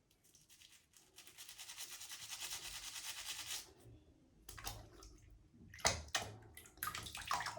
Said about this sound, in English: So we're gonna take our toothbrush. We're just gonna clean those edges just a little bit more.